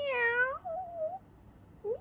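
A voice imitates a cat's meow, giving one long wavering mew and then a softer drawn-out tone, followed by a brief rising squeak near the end, close and clear against a quiet room.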